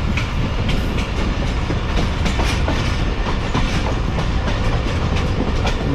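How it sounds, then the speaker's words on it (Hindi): A Tezgam express train in Pakistan rolls onward with a loud, steady rumble and rhythmic clickety-clack of wheels on rails, continuous throughout as heard from inside the carriage. "ट्रेन ने दोबारा स्टार्ट करना शुरू कर दिया है"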